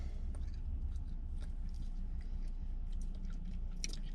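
Close, steady chewing on a rock-hard apple cider gummy candy, with soft wet crunches and squishes repeating over a few seconds and no talking.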